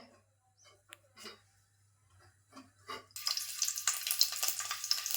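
Garlic drops into hot oil in a pot and erupts into a loud, bright sizzle that keeps going steadily, after a few quiet kitchen clinks and taps.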